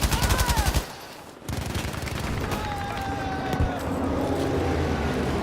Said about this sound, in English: we're just going to move along very slowly with our LMG